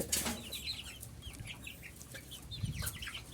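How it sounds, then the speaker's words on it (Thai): Three-week-old chicks, already feathered and winged, cheep and cluck in a small flock, with soft overlapping chirps scattered throughout and a few brief rustles of movement at close range. "ไก่เล็กอะครับ ไก่เล็ก"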